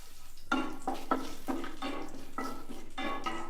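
Melted butter and oil in a pan with kasuri methi added, bursts of sizzling and scraping as a spoon stirs against the pan in an uneven rhythm, close and fairly quiet with no talking.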